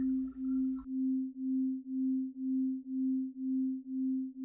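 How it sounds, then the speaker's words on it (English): Binaural beats from a 261 Hz tone in one ear and a 263 Hz tone in the other: a steady pure tone with a slow, even pulsing beat, roughly two throbs per second, after a brief burst of other sound at the start. "a 261 Hz tone is played in one ear and a 263 Hz tone is played in the other"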